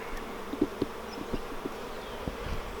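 A soft, dense buzzing of many honey bees on hive frames hums steadily nearby, with a few louder buzzes and light knocks rising out of the drone.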